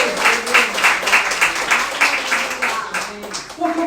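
Church congregation at Igreja de Nova Vida do Catete applauding during a sermon, steady clapping from many hands sustained for several seconds in a reverberant hall, with speech and cheering voices mixed in.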